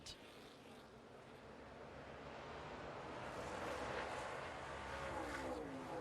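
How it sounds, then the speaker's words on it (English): ARCA Menards Series West race cars at Portland International Raceway take the green flag, their engines blending into a dense, distant roar that swells steadily as the field accelerates. "Green flag is out. We are racing here in Portland."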